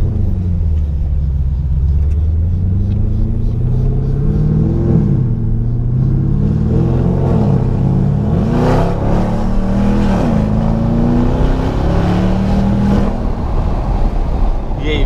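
Porsche Panamera engine revving hard in repeated rising and falling bursts, loud and close with a deep rumble, while people talk excitedly over it.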